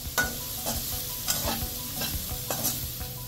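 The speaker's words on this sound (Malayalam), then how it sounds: "ഇനി ഇഞ്ചി ഇട്ട് നന്നായിട്ട് മിക്സ് ചെയ്യണം. ഇതിനെ നന്നായിട്ട് ഇതിനെ വഴറ്റി ഒരു ഗോൾഡൻ കളറാക്കി എടുക്കണം." Ginger is stir-fried in a pan for Kerala-style puli inji, with a constant close sizzle and regular scraping strokes of a spatula about every half second.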